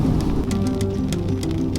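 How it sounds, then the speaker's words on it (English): Steady rain falls heavily and close, a dense hiss of drops with a low rumbling undertone. "the rain started to fall."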